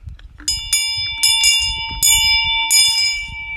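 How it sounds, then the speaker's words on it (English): A small handheld bell rings four times at a slow, uneven pace, each strike a bright, close metallic ding that rings on and fades before the next, with faint low background noise between strikes. "there you go, there's the bell"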